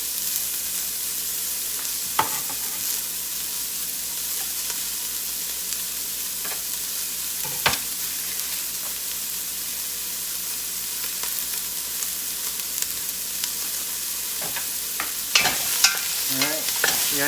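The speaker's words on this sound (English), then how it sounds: "Next, put the onions in. We'll have them a little bit translucent." Onions frying over medium heat in a pot, a soft steady sizzle with occasional sharp clinks and scrapes of stirring, close and alone without talk.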